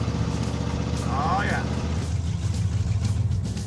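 A 1971 Plymouth Duster race car with a 318 engine and three-speed stick runs with a steady, throaty engine rumble close by, under a voice.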